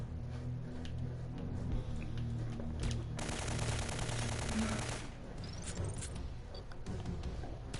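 A burst of rapid automatic gunfire rattles for about two seconds in the Syphon Filter 3 game, set against a low steady background hum.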